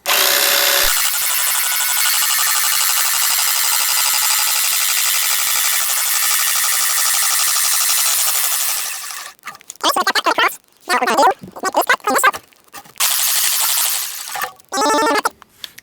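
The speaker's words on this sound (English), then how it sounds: "We of course have our M18 adapted Power Plus jigsaw." A Milwaukee M18 Power Plus jigsaw cuts with a loud, continuous high buzzing for about nine seconds, then stops and restarts in short choppy bursts separated by silence.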